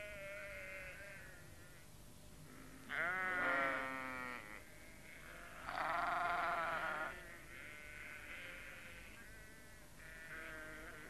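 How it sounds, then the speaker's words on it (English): Sheep in a 1980s Postman Pat stop-motion cartoon bleat in a snowy countryside scene, several wavering calls of varying pitch, two loud close ones among fainter bleats, over a soft background hum. "The sheep were glad to see them."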